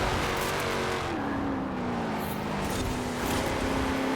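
A video game car's V8 engine hums steadily, its pitch sliding slightly down then holding, a smooth sustained drone with no voices.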